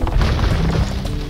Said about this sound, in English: I don't know if 4 bombard cannons is enough.